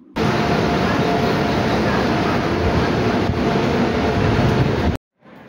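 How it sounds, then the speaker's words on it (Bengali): Kalinga Utkal Express train running from Agra Cantonment toward Mathura gives a loud, steady broadband rumble that holds for about five seconds, then cuts off abruptly. "আগ্রা ক্যান্টনমেন্ট থেকে আমাদের মথুরার উদ্দেশ্যে ট্রেন ছিল কলিঙ্গ উৎকল এক্সপ্রেস।"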